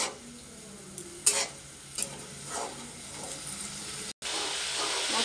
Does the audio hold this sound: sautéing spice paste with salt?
yes